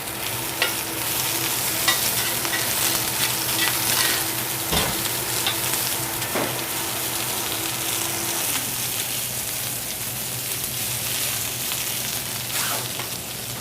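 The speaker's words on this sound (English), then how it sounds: "We're cooking the ginger long and slow in vegetable oil" Ginger cooking long and slow in vegetable oil for a tofu veggie curry stir fry, a steady loud sizzle with occasional stirring scrapes and clinks, continuous and close without talk.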